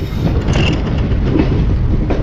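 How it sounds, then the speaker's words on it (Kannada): A train pulls out of Bantwal railway station with a loud, continuous rumble and rhythmic clickety-clack of wagon wheels on the rails, heard close up from on board. "so we are living Bantwal railway station"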